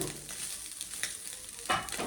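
Small fish frying crisp in hot oil in a pan, a close, steady crackling sizzle with brief louder spurts, with no talk.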